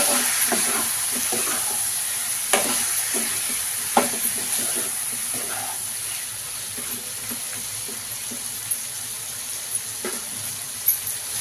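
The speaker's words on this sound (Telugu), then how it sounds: "స్పూన్ కారం వేసుకున్నామండి ఒకసారి బాగా కలుపుకుందాం" Chili powder being stirred into a fenugreek-leaf chicken curry in a pan, with a steady sizzle throughout and a few sharp scrapes and clinks of the spoon against the pan, no talking.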